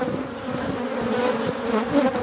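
Honey bees buzz steadily and close up during a beehive inspection over brood frames, a continuous droning hum that swells slightly but never breaks, with no voices.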